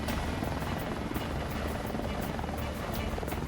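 A rescue helicopter flying over rough terrain in squally weather, its rotor beating in a loud, continuous rapid thump that fills the whole clip.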